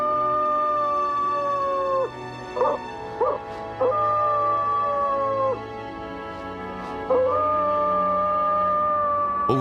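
A coyote in Yellowstone howls in long, sustained rising and falling tones, several drawn-out calls broken by short yips, over steady background music.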